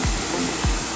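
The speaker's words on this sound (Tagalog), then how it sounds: "kung paano gumagana yung wash motor natin sa washing machine" A washing machine wash motor is tested out on a bench, running with a loud, steady, broadband whir, with two low rhythmic thumps about half a second apart and no talking.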